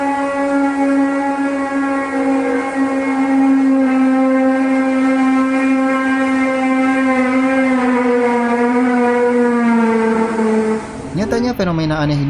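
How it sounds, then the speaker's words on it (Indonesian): A mysterious sky sound reported in Germany, Australia, the United States and Canada, likened to a trumpet, squealing metal and a jet engine: a loud, steady, brassy drone that holds one pitch for about eleven seconds and then cuts off abruptly. "Suara itu mungkin terdengar seperti campuran suara trompet, logam berdecit, dan mesin pesawat."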